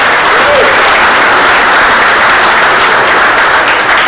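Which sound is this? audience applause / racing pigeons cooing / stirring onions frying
audience applause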